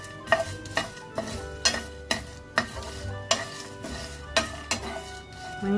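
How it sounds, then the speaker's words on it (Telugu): Black peppercorns and whole masala spices dry roasted in a pan, stirred with regular scraping strokes and light clinks about every half second, close up, over a faint steady background hum. "వీటిని చక్కగా దోరగా వేయించుకుంటూ"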